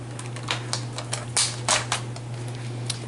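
Scissors snipping out a paper piece for a vintage-style masculine birthday card, a series of short, crisp cuts spread irregularly over a few seconds against a steady low hum.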